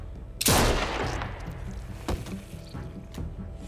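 A single loud gunshot rings out in The Walking Dead: A New Frontier game, followed by a couple of fainter sharp impacts and background ambience.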